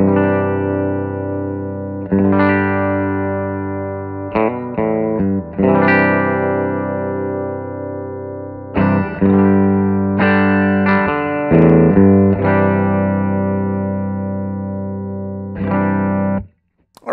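Clean electric guitar played through a Two-Rock amp and Matchless cabinet: sustained chords and ringing notes with rich harmonics, several separate strums fading out between phrases, close and fairly loud with no talking.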